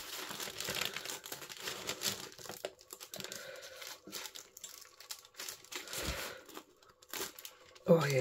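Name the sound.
faux rice paper tearing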